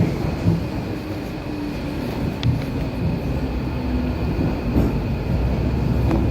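A Docklands Light Railway B07 stock train runs along at a steady pace, giving a continuous low rumble and rattle from inside the carriage with faint squeals.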